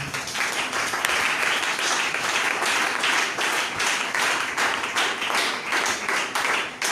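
A church congregation applauds steadily throughout, a dense, even wash of many hands clapping that fills the room at close range.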